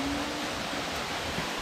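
Kouza waterfall at Rock Garden on Mount Rokko, a dense, steady rush of falling water that fills the air evenly, close and constant with no other sounds standing out.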